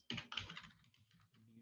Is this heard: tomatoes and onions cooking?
no